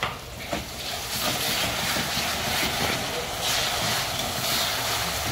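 Ginger garlic paste frying with browned onion in a pan, a dense, continuous sizzle with stirring scrapes, close and fairly loud, with a faint voice in the background.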